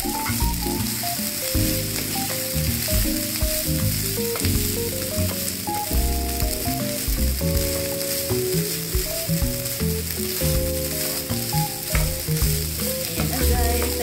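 Fried rice being stirred in a hot pan, giving a steady, close sizzle with scraping stirs throughout, under continuous background music.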